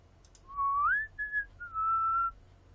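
A clear, tuneful whistle alone: a rising note, a couple of short chirps, then a long steady held tone, fairly close with faint background hiss.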